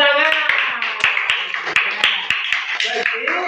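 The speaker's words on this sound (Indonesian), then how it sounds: "Tepuk tangan." Classroom students clap their hands together, a dense burst of sharp overlapping claps running steadily throughout, with voices talking over it.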